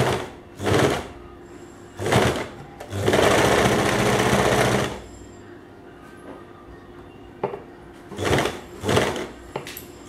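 A sewing machine stitches piping onto a kameez neck in several separate bursts, short runs and one longer steady rattling stretch, close and loud, with quiet pauses between runs.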